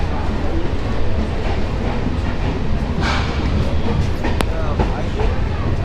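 A Barasat-bound local train at Bibadibag station, its steady broadband rumble and rattling carriages filling the platform, with a brief brighter hiss and a sharp click partway through; voices murmur underneath.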